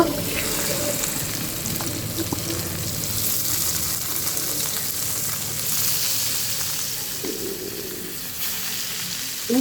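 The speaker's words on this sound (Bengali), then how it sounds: "তেল গরম হয়ে গেছে মাছ দিয়ে দিব" Fish rubbed with chili powder fries in hot oil, giving a loud, steady, close-up hiss and crackle that barely varies throughout. Faint utensil knocks appear near the end.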